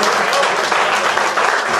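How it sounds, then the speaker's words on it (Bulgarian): An audience at a gadulka players' gathering in Kalofer gives brief, dense, continuous applause lasting under two seconds, loud and close, with no distinct voices. "Най-истинските аплодисменти бяха това, аплодисменти от сърце"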